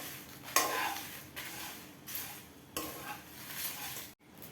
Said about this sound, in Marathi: कांदा लसूणसुद्धा आपल्याला तेलामध्ये छान भाजून घ्यायचं आहे.